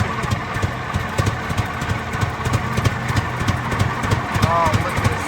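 An engine runs at a steam engine show in Halltown, Missouri, chugging in a steady, rhythmic beat close by while a person talks over it.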